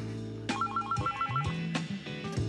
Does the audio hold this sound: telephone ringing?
yes